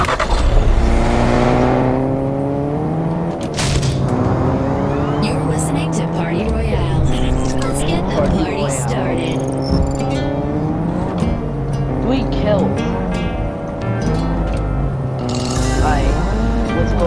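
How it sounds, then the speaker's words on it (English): A car in the Fortnite video game drives and revs continuously, engine tones rising and falling with occasional tire squeal, loud and steady throughout. "Get back in, get in this car."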